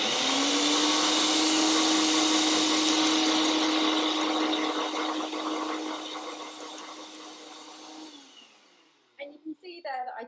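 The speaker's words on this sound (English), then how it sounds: "what happens with the blender and the blade is that it pushes all of the ingredients up the sides" A blender whirs loudly and steadily while blending vegan cobbler ingredients, then winds down and stops, followed by a few knocks and a voice.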